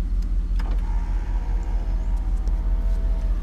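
An old car with rusty, sticking rear drum brakes idles with a steady low rumble, a few faint clicks and knocks over it, and no talking.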